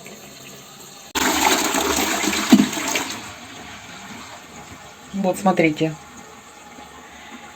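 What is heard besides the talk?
toilet flushing with water running out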